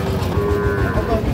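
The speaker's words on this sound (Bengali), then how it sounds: "এই শাহিওয়াল ষাঁড় বাছুরটা" A Sahiwal bull calf at a busy cattle market lets out a loud, close, drawn-out moo, with crowd noise and murmuring voices around it.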